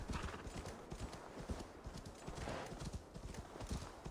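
Horse hooves galloping in the video game Assassin's Creed Valhalla, a steady rapid drumming of hoofbeats with a brief whinny, quiet and close against a low game ambience.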